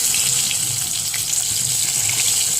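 Fish frying in oil in a pan, a continuous bright sizzling hiss at steady loudness, close and without talking.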